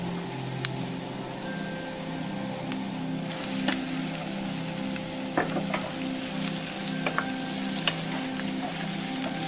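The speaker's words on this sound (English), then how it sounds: "sizzle." Vegetables sizzling as they brown in a pan over moderate heat for pasta, a steady crackling hiss with scattered pops and occasional stirring clinks throughout.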